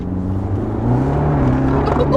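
Inside an Abarth with a Stage 1 tune, the engine drones steadily and rises in pitch as the car pulls hard from second gear, loud and continuous from the cabin.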